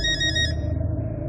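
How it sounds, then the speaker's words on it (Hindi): A telephone ringtone plays as a sound effect in a ghost story: a bright electronic ring that cuts off after about half a second, leaving a low, pulsing rumble underneath. "पुष्कर का फोन बजा, जो लगातार बजता ही रहा"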